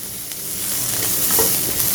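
Vegetables for chicken chow mein sizzle steadily in a hot pan, a loud continuous frying hiss with faint stirring scrapes and no voices.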